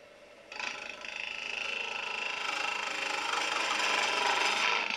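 A wood lathe spins a small tea light holder on a mini chuck at about 1500 rpm, a steady whirring hum joined by a continuous bright scraping hiss as the tool cuts, close and even throughout, with no voices.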